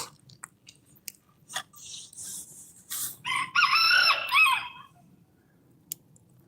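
Chickens on a small home flock sound off with scattered clucks and pecking noises, then a loud rooster crow rings out near the middle, followed by quieter clucking.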